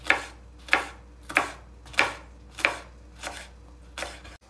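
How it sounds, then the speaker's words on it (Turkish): A knife chops red kapya peppers on a board, seven crisp strokes at an even pace, the last few softer. "Evet, kapya biberlerini de doğradık."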